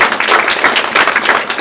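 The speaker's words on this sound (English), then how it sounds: "I want us to put our hands together as we bring to the stage" Dense, steady audience applause at a book launch, many hands clapping at once as a speaker is welcomed to the stage, loud and continuous without pause.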